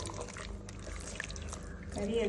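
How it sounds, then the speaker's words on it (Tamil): Water pouring into a pot of meat with yogurt and coriander powder for biryani, a soft splashing gurgle, brief and close, under a low background hum. "1/2 லிட்டர் தண்ணி ஊற்றிடணும் வேகிறதுக்காக."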